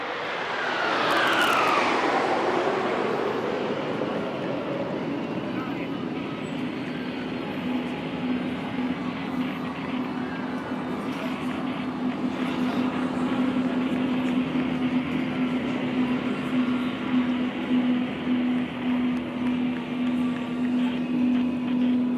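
Indian Air Force Suryakiran aerobatic team jets dive in over Chennai's Marina Beach, a loud roar sweeping down in pitch as they pass, then settling into a sustained engine drone.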